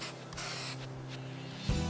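Silicone spray hisses steadily from a can onto aluminium window gaskets during assembly of a Reynaers CS 104 window, a soft close continuous spray that ends with a brief louder burst.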